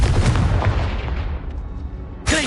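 Confringo fire spell in Hogwarts Legacy, one loud blast with a booming low rumble that decays over about two seconds, followed by a brief bright whoosh at the end, with no voice.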